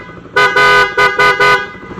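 A PIA horn on a Rider 150 motorcycle honks loudly in five quick blasts: a short toot, a longer one, then three more short bursts.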